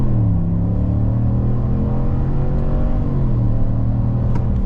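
2025 Chevy Silverado pickup accelerating hard from a launch, the engine drone rising steadily in pitch inside the cab with a steady rumble underneath, loud and continuous with no talk.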